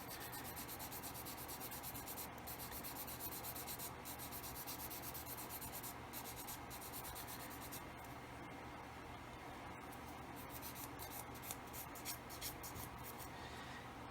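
Steady, close scratchy rubbing as plastic parts from a 1/24 Airfix F6F-5 Hellcat model kit are sanded, continuous strokes with brief pauses and a slight change in texture partway through.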